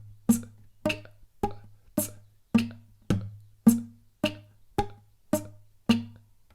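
Twelve staccato guitar notes plucked at a steady pace, each a sharp attack quickly damped by muted strings, leaving brief gaps of near silence between them.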